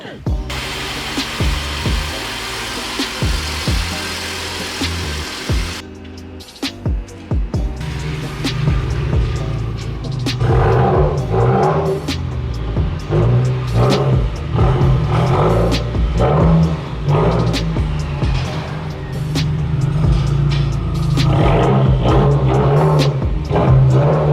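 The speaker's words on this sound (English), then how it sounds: "I'm gonna go ahead and pull in the car into the garage" A Subaru WRX pulls into a garage, its engine rumbling steadily and loudly with bursts of revving as it rolls in close by, the sound filling the space for the whole stretch.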